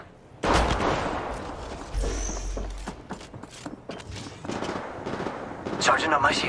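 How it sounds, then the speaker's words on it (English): Gunfire in Apex Legends Mobile, a sustained run of sharp rapid shots with mechanical clicks and rattles, mixed with voices speaking over the action. "Taking fire!"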